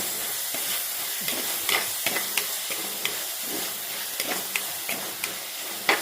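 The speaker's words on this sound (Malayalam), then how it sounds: "അപ്പോൾ ആ ചട്ടിയിൽ തന്നെ അങ്ങ് കടുവറുത്ത്" Mustard seeds spluttering in a hot pan, with continuous sizzling and hissing broken by frequent sharp pops and crackles, heard close up.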